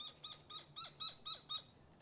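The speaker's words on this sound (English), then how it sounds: "The bird's natural soundtrack out here." Several birds sing outdoors in a quick run of about seven bright, chirping phrases, each a short rising-falling note repeated in steady rhythm, moderately close over a soft background hush.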